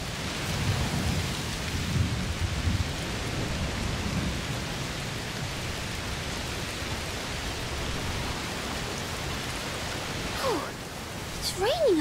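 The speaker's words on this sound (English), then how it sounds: "Must be a heat storm" Steady downpour of rain with low rumbling thunder in a heat storm, set in the game Plague Tale: Requiem; broad continuous wash throughout, with brief voices or sounds near the end.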